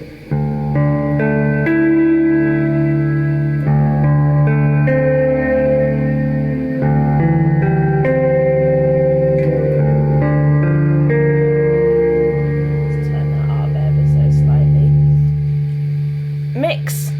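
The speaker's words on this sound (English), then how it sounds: "When you have it all the way to the right, you've got a really nice smooth reverb sound." Guitar notes and chords with the reverb turned fully up, ringing out with a lush, smooth reverb tail, played slowly and sustained, fairly loud and with no talking.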